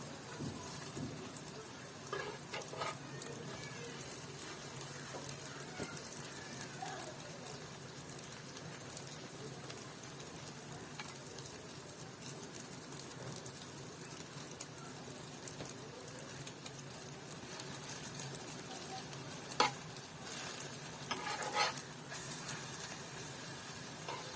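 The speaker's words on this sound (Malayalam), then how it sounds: "ഇതിൽ മുക്കി പൊരിക്കുമ്പോൾ ഈ ബ്രെഡ്" Bread dipped in coconut milk and egg frying on a low flame, a soft, continuous sizzle and hiss with faint crackles, quiet and even, with a couple of small clatters near the end.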